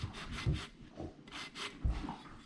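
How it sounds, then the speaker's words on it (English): Sandpaper rubs against the sides of a wooden centerpiece in soft, repeated back-and-forth strokes, fairly quiet and close, with no talking. "And then we're going to sand the sides a little bit."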